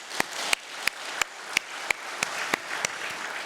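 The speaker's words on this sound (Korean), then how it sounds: "하나님께 우리 영광의 박수 한번" A church congregation applauds during a Sunday worship service, a steady wash of clapping with a few sharp, distinct claps standing out at an even rhythm throughout, with no voices.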